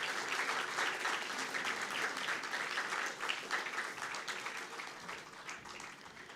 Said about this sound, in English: Can we have a big round of applause to our Guru